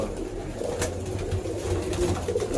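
Pigeons coo in a loft with low, repeated throaty murmurs, steady and close amid rustling and background activity.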